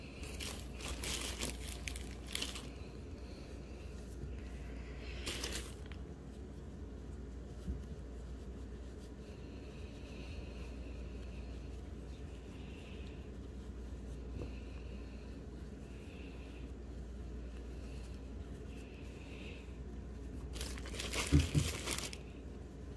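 Fiberfill being pushed into the legs of a crocheted yarn turtle gives soft crinkling and rustling through much of the clip, with scattered sharper bursts of handling near the start, around five seconds and a louder cluster near the end.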